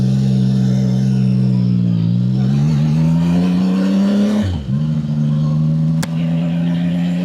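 A CF Moto 675 SR motorcycle ridden on the road, its engine droning steadily and close, rising in pitch as it accelerates, dipping briefly on a shift, then pulling on again.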